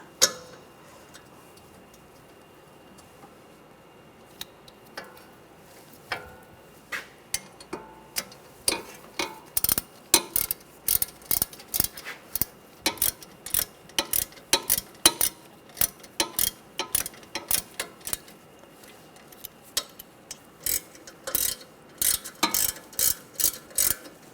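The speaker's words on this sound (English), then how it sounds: "And we'll torque these to 26 foot-pounds." Ratchet tightening the front brake caliper bolts on a 2009-2013 BMW 328i xDrive, long runs of rapid, close clicking strokes that speed up and grow louder with short pauses between them.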